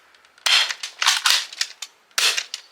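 An Adventure Force Deuce Pro toy dart blaster fitted with a barrel fires several loud, sharp cracks with brief pauses between them, each shot close and snappy, with no talking.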